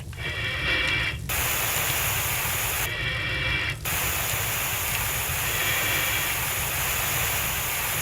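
A fire hose sprays water in a firefighting video game, a steady loud hiss that runs the whole time, with the spray briefly cutting in and out twice near the start.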